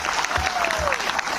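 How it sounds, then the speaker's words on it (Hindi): An auditorium crowd breaks into sustained, dense applause welcoming members of the Pasmanda Muslim community standing at the back, a steady roar of clapping with voices faintly underneath. "उनका विशेष स्वागत जोरदार तालियों से होना चाहिए"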